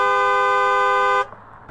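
A voice imitates a car horn with a sustained, buzzy honk lasting just over a second, cutting off abruptly into faint background noise.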